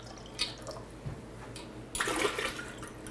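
Ice water pours into a pitcher in a home kitchen while lemonade is being made, with faint trickling first and then a louder, splashing pour near the end.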